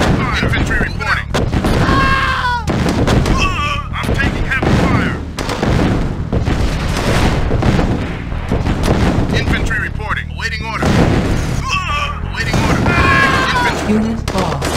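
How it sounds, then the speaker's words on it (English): Gunfire and artillery blasts from the real-time strategy game Command & Conquer: Tiberian Sun fill the battle, with loud rapid shots and booming explosions running almost continuously, and brief unit voice responses mixed in. "Medic! I'm taking heavy fire."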